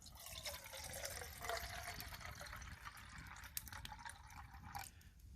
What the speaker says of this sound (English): I'm going to fill them both up with 300ml of water